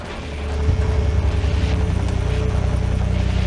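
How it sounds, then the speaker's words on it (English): A military helicopter lifts off from a pad in Splinter Cell Blacklist, its rotor thumping in a fast steady beat under a broad whining turbine roar that builds and then holds loud. "requesting permission to lift off from chopper pad Alpha Niner"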